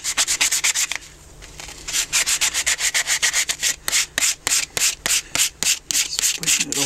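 Sandpaper scrubbing a hand-carved wooden spoon in quick, rhythmic rasping strokes, close up and steady, with a brief pause near the one-second mark before the back-and-forth rubbing resumes.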